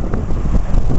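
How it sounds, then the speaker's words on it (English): Strong wind of about 25 miles per hour buffets the microphone in a steady low roar with gusty swells, loud and close, no voices. "It's very windy today. It's about 25 mile an hour wind."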